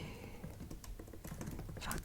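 Quick, close keyboard typing, a run of light clicking keystrokes over a soft, hushed background.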